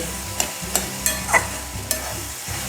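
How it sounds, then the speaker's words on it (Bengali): Kochurloti (taro stolons) are stirred in a pan, a utensil scraping and clanking in about five sharp strokes over a soft background sizzle, close up with no voices. "এবারে ভালো করে নেড়ে চেড়ে নেব।"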